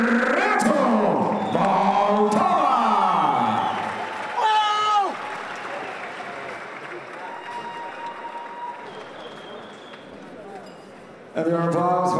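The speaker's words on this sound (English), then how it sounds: "And your applause for his opponent, Shaka Helaya." Crowd applause and cheering fill an MMA fight event after a rear naked choke submission win, with a loud announcer talking over much of it.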